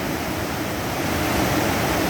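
Rushing river water at Nymph Falls near a fish ladder, running unusually high; a loud, steady, broadband roar of churning water with no pauses and no voices.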